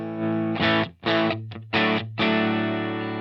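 Distorted electric guitar chords ring out through a Plexi amp model on a Helix, several choppy strums followed by a sustained, fuzzy chord.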